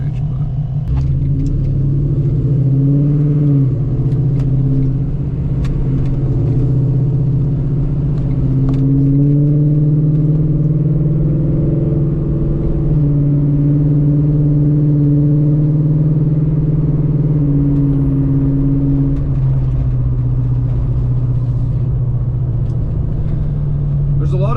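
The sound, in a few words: Coyote-swapped 1991 Ford Mustang Foxbody driving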